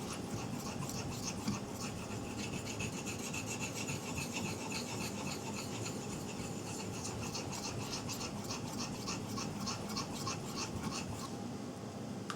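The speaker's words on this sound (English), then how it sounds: "I'm polishing, sharpening the very edge line on this" Steady rasping strokes of an S35VN steel knife edge being sharpened on a 2000 grit stone, continuous rhythmic scraping that stays close and even throughout with no talk.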